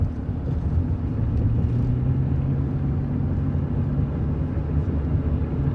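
A car drives along steadily, a low, continuous road rumble and engine drone heard from inside without a break.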